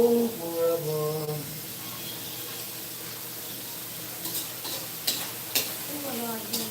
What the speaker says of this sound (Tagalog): igisa muna natin yung ating mga sangkap